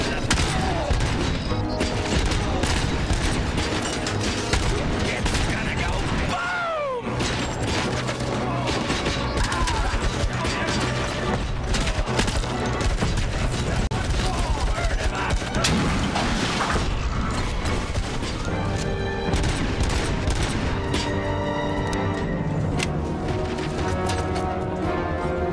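Gunfire and a keg exploding in the RoboCop: Rogue City video game, with repeated shots, thuds and crashes over a busy, loud soundtrack that never lets up.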